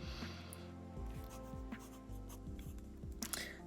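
Sailor Fude fountain pen nib scratching and rubbing softly across sketchbook paper, a quiet, irregular scraping of short strokes.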